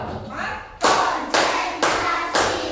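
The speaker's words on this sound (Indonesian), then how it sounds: "Tepuk 1. Tepuk 2. Tepuk 3. Tepuk 4." A classroom group claps together in counted claps, four crisp sharp claps evenly spaced about half a second apart, loud and close, with a softer murmur before the first.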